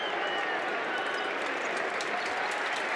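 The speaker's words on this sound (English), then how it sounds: "And Polinar hearing the applause." Crowd applause and cheering fill a basketball arena during a FIBA EuroBasket 2025 qualifier between Italy and Türkiye, a dense, steady wash of clapping and noise with no break.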